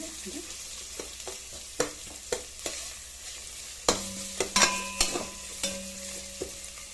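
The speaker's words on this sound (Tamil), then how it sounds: "கருவேப்பில் காஞ்ச மிளகாய் சேர்த்துருக்கேன் எல்லாத்தையும் நல்லா வதக்கலாம்" Curry leaves and dried chillies sautéing in a pan, giving a constant sizzle broken by sharp spatula clacks and scraping stirs, some strokes louder and quicker, close up with no talk.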